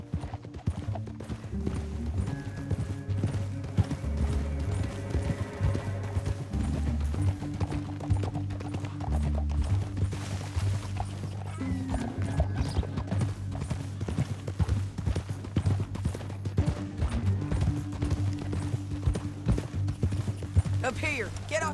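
Horse hooves clip-clopping in the Red Dead Redemption 2 video game, a steady rapid rhythm of hoofbeats running throughout beneath a low musical score, with occasional snorts and spoken dialogue mixed in.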